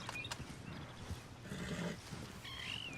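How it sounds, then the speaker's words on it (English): A horse whinnies in a Western open-world video game, a short neigh amid low ambient game sound and rustling, moderately faint, with no talk over it. "He's our horse."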